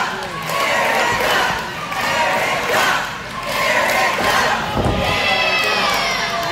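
A crowd at a wrestling-style fight event chants and cheers in rhythmic swelling waves, loud shouts rising and falling, with a thud near the end.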